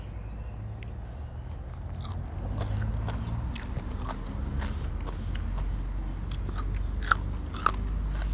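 Crunchy, close-up chewing of spicy Thai beef tripe salad, with rubbery bites and sharp crunches repeating irregularly and growing louder toward the end, without talk.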